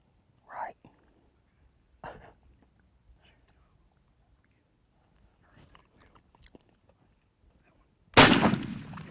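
A turkey hunter's shotgun fires one sudden, very loud blast near the end, after a long quiet stretch broken only by faint whispers and small rustles.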